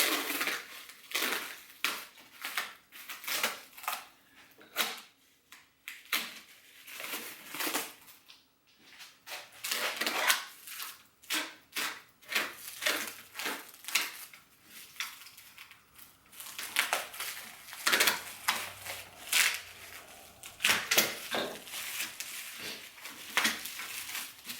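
Packaging for a LongMill CNC machine kit being cut and pried open with a dull knife, a long run of close, crackling scrapes, snaps and tearing bursts, irregular and busy throughout with brief pauses.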